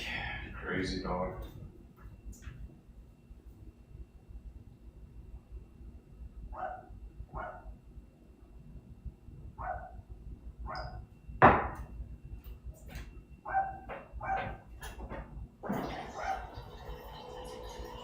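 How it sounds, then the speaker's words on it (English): A dog outdoors in the Houston afternoon heat lets out a scattered series of short sharp barks, some close and loud, some fainter, with someone talking at the start and end. "He wants to go out and bark."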